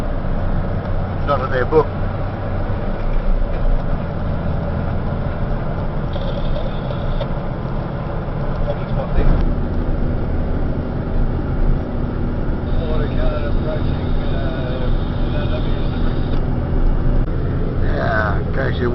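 Kenworth truck rumbling along a bumpy road near a railway line in the Pilbara, a steady heavy engine drone with cab rattles and jolts, with people talking over it throughout.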